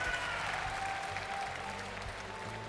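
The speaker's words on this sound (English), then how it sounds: "Even I am clapping." A crowd applauding steadily, a dense wash of clapping that holds for a few seconds at moderate distance.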